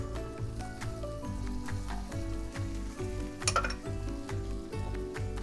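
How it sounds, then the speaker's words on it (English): Onion and vegetables for a fresh lumpia filling sautéing in a pan, a soft continuous sizzle with a low steady hum underneath and a brief clink of a utensil partway through. "And we need to saute together."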